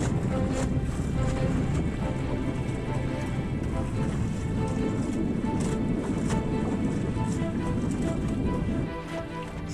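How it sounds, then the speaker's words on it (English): Wind buffets the microphone steadily while sailing a small boat off Sanctuary Point in early winter, a loud continuous rumble with water wash underneath that eases slightly near the end. "Speed up now, wind's picking up"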